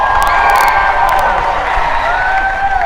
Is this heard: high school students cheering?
yes